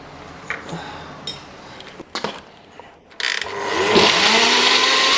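A kitchen mixer blends cold coffee, beginning with scattered clicks and knocks before spinning up into a loud, steady whirring drone that holds to the end.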